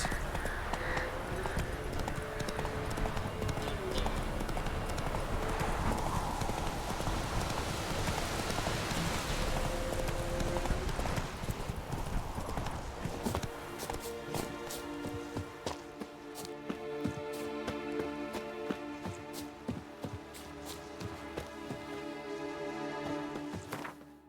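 A horse clip-clops along in The Witcher 3 amid steady rain, rhythmic hooves under a dense patter that gives way midway to sparser drips, distinct hoof strikes and a tonal musical score.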